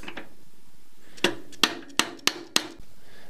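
Five sharp metallic hammer taps, evenly spaced and close, as a cam is knocked back onto the engine of a Motobecane Mobylette Cady moped, with quiet room noise between strikes.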